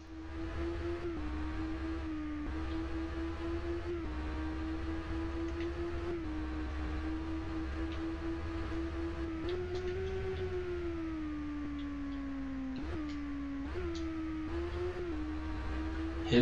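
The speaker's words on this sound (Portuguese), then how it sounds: "O ronco de escapamento com a câmera no painel fica bem mais forte" Kawasaki Z1000 motorcycle exhaust in the racing game Ride, heard from a dashboard camera: a steady, loud engine drone that rises and falls with revs and gear shifts, without speech.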